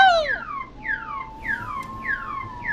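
An alarm wails in the video game Killer Frequency with a repeating electronic siren of falling tones, about four cycles over a steady high tone, fairly loud and alone.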